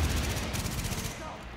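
Gunfire in the video game The Division: a rapid volley of shots, moderately loud and fading toward the end, with some speech-like sound mixed in.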